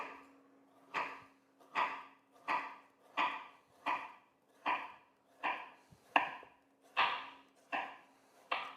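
A knife slices through firmed shortbread into 1 cm slices, giving about a dozen evenly spaced crisp cutting strokes, each ending in a soft thud on the board, close and clear.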